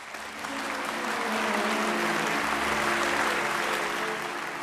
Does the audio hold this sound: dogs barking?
no